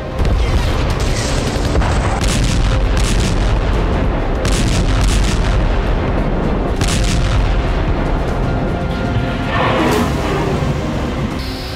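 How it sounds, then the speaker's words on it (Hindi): Artillery bombardment in the Russia–Ukraine war: loud, continuous rumbling explosions and booms pile over one another, with sharper blasts cutting through a dense, heavy roar. "पुतिन सेना का महाविस्फोट"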